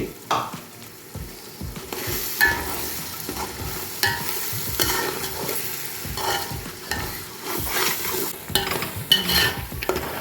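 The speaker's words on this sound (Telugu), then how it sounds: "పేస్ట్ వేస్తున్నాను ఎందుకంటే ఇది పచ్చి పేస్ట్ చేసాం కనుక ఇది జాగ్రత్తగా దగ్గరుండి దీన్ని ఫ్రై చేసుకోవాలండి" A raw paste of cashews, coconut and melon seeds fries in a pan, with a sizzle underneath and a spoon scraping and stirring in irregular bursts, close and moderately loud.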